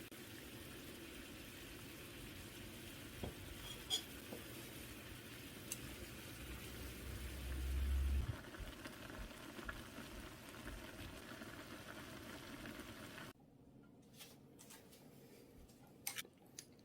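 A steady bubbling rumble of Korean instant ramen noodles boiling in a pot, constant and fairly close, with a brief swell midway before it drops to a quieter hiss with faint clinks.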